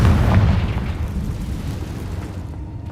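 A Confringo fire spell detonates in the Hogwarts Legacy video game, a loud booming explosion at the start that rolls into a long, rumbling decay.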